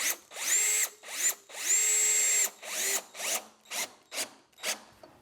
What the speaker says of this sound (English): And I'm gonna start by putting a screw in here.